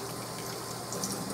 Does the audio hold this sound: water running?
yes